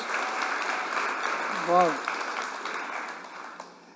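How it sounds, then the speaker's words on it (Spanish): Church congregation clapping in unison, a steady dense wash of applause that holds for several seconds and then tapers, with a brief exclaimed voice rising over it midway. "si vamos a aplaudir, pues aplaudimos juntos"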